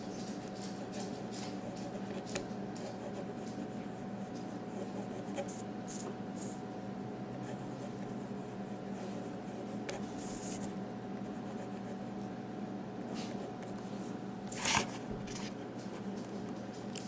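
Conklin Duragraph and Nighthawk fountain pens scratch steadily across thin Tomoe River paper, a soft, continuous close-up nib rasp with small pauses between strokes and one brief louder scrape near the end.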